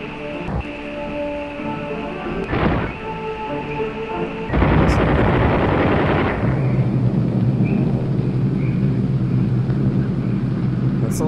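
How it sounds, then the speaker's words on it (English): Wartime battle audio in the video game Oxenfree, with sharp gunshot-like cracks and bursts early on, then a loud, sustained rumble of a plane roaring through and droning on, no talking. "That sounds like gunshots and plane fire and like a plane. Like wartime."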